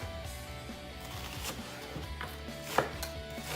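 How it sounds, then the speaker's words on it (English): A knife chops steadily through an onion on a cutting board, with a few sharper taps standing out, close and fairly quiet, with no talking. "Always be extra careful when you're chopping onions or garlic"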